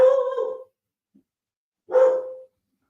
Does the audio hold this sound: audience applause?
no